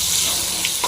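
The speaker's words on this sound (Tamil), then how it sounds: "வெங்காயம் நல்லா ஃப்ரை ஆகணும்." Chopped onions fry in a pan with a continuous, close, bright sizzle, and a couple of soft stirring touches come near the end of the short moment.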